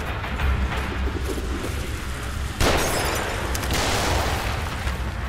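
Gunshots and booming impacts in The Evil Within video game, a dense loud rumble with a sharper burst partway through, continuing steadily.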